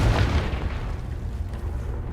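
A Confringo spell blast erupts in Hogwarts Legacy with a loud, close boom that is strongest at the start. A rumbling roar follows and lingers at a steady level for about two seconds.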